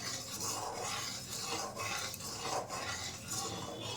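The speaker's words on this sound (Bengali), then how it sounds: "ভালো করে মিশিয়ে নিচ্ছি ঠিক আছে এলাচ দিয়ে দিচ্ছি" A spoon scraping and swirling through a milk pitha mixture with cardamom, a soft continuous stirring rasp with faint metallic clinks against the pot, no voices.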